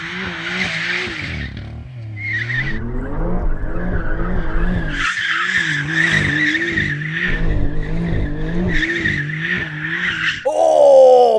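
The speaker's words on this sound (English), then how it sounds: "That's how you donut, baby." Tyres squealing and skidding as a high-powered BMW M5 or Porsche 911 Turbo S spins donuts, a loud continuous screech over a revving engine with wavering pitch, close by and alone without talk.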